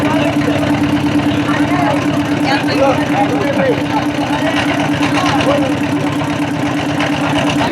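A boat engine runs steadily after passengers board at a river crossing in Sylhet, a constant loud mid-pitched drone with an even chugging pulse, heard alongside voices of people talking nearby.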